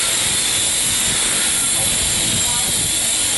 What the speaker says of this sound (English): we started on tyre and engine cleaner, and we're just applying a bit of that to the wheels